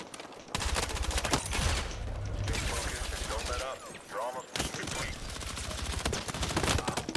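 Bursts of automatic gunfire and rapid shots in the video game Battlefield 6 come loud and dense with short gaps, while players talk over the fighting.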